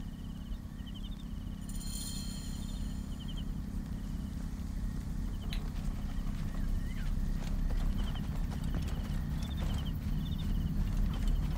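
Hooves of a horse clip-clop steadily throughout in the Assassin's Creed Origins video game, with a brief whinny early on, set over a constant low ambient rumble and faint insect-like chirps.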